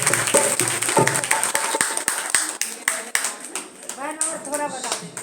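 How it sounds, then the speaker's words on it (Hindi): A crowd claps in sharp, rapid bursts at a Diwali celebration, close and lively, with voices talking and calling out over the applause. "जोरदार तालियां बजाएं।"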